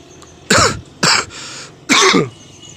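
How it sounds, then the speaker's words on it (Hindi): Three loud, close coughs in quick succession, the last a bit longer and harsher, with quiet room noise between them. "मुझे जब खांसी होती है ना मैं ऐसे खंगता रहता हूँ"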